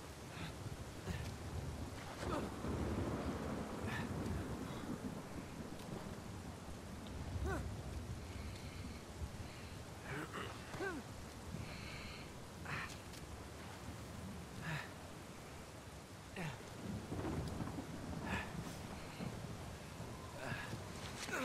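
Rain and thunderstorm in the video game Uncharted 4, with a steady rain hiss, low rolling thunder swelling and fading over about twenty seconds, and scattered sharp crackles.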